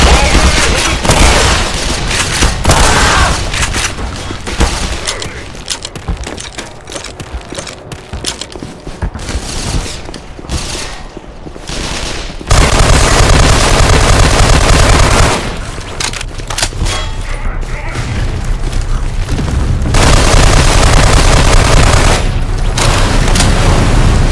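Heavy artillery barrage of steel rain in Black Mesa Blue Shift, with loud, dense rolling booms and rapid bursts of gunfire-like impacts running continuously, pausing briefly before resuming at full force.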